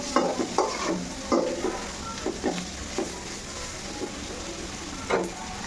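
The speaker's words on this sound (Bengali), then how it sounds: "আমি এটা একটু ভেজে দেবো" Eggs frying in a pan with chili powder, a soft continuous sizzle broken by irregular scrapes and taps of a spatula stirring nearby.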